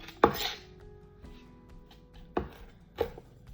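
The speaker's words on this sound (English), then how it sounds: "I'm gonna chop up the cilantro a little bit" Cilantro with its stems, chopped for guacamole, gets a few sharp knife strikes on a cutting board, spaced apart with quiet pauses between them, close and clear.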